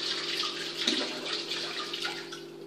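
Steady running tap water splashing while something is rinsed in a kitchen, a continuous close hiss with slight fluctuations throughout.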